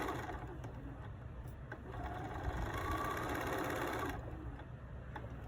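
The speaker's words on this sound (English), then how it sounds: "sew your 1/4" seam again" A sewing machine runs steadily through a quarter-inch seam on a pillow project, a continuous close mechanical whir that holds at an even pace and swells slightly midway before easing off.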